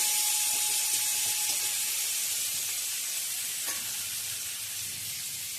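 Chili, salt and turmeric frying together in a pan, giving a steady, close hiss of sizzling oil that carries on throughout with no talking.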